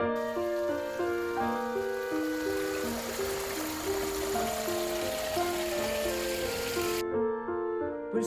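Steady outdoor rain hisses continuously beneath a gentle melodic tune of sustained notes, with the music cutting out near the end.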